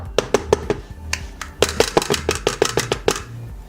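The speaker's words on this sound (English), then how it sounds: "Tap it so that there is no air bubble in the batter." A cake tin of eggless Christmas cake batter is tapped on a hard surface to knock out air bubbles, giving a series of sharp, close knocks in quick bursts, a group of four, one on its own, then a faster run of about ten.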